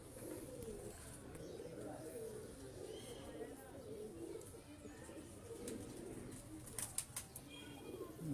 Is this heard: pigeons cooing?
yes